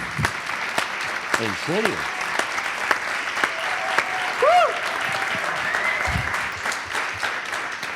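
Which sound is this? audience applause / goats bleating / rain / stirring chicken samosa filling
audience applause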